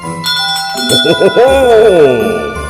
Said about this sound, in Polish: rozniósł się dźwięk dzwonków